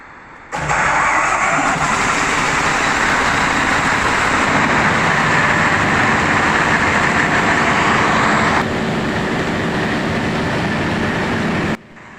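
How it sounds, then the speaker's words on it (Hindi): A Baudouin 750 kVA diesel generator engine starts up and runs steadily and loudly, with a dense mechanical roar that holds for about eleven seconds, drops partway through, then cuts off abruptly. "हमारा इंजन 750 kVA का कामयाबी के साथ स्टार्ट हो गया"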